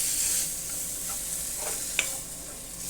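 Balsamic vinegar sizzling in a hot frying pan, a steady hissing fry with faint stirring clicks and one sharp tap, close and moderately loud.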